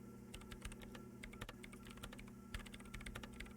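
Rapid keystrokes on a computer keyboard in the Disco Elysium video game, a continuous close, even patter of clicking keys over a steady low background hum, with no talking.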